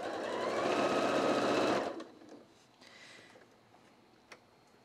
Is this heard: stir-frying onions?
no